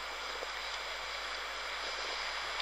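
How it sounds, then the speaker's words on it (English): Sea waves wash onto Pentewan beach in Cornwall, a soft, steady broadband hiss of surf at a distance with no voices, quiet and unbroken. "I don't know if that picked up the waves,"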